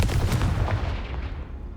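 A Confringo fire spell blasts in Hogwarts Legacy: one loud, booming explosion hits at the start and then fades through a rumbling tail.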